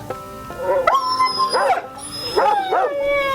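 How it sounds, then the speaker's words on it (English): A dog howls and whimpers at night, with long wavering cries in several rising and falling phrases, fairly loud and alone. "there was a dog crying about somebody that was gonna die"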